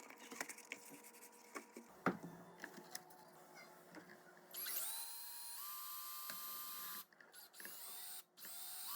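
A power drill whines steadily in a continuous high-pitched run, pausing briefly twice, after a stretch of scattered clicks and clatter.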